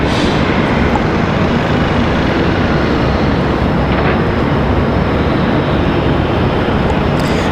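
A Republic Airways jet departing Raleigh Durham airport, a loud continuous roar of engine noise filling the whole clip without letup.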